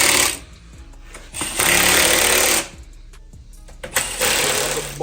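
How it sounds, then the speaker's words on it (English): Pneumatic impact tool torquing down beadlock wheel bolts, loud buzzing rattling bursts of about a second each separated by short pauses, close up with no talking. "The initial bolt down. Don't worry, we're torquing them."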